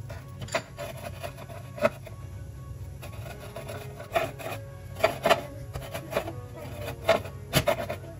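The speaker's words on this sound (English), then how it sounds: "my leaves are dry and ready to chop" Dried molokhia leaves being chopped, a series of soft dry scraping and tapping strokes at an uneven pace, close and fairly quiet.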